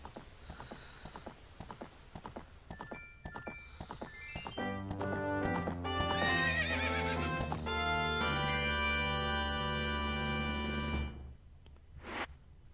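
Epona the horse in Zelda: Ocarina of Time lets out a loud, drawn-out whinny at close range, preceded by a run of rhythmic hoof clops and mechanical clunks, with a faint thump at the end.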